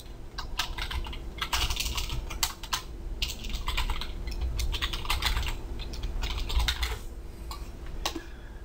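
Rapid, steady typing on a computer keyboard, a dense run of close key clicks with brief pauses, heard alone while text is entered into a new design document.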